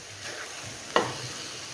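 Spicy potato and parwal curry is stirred in a pan with a couple of soft scraping strokes, one sharper clack of the spoon against the pan, and a faint sizzle underneath, close and quiet.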